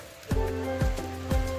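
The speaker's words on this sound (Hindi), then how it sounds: "तो अभी छाता लेना पड़ेगा क्योंकि बारिश ज़्यादा हो गया।" Rain falls steadily during a village flood in Assam, a soft continuous patter broken by three sharp low thuds at regular intervals.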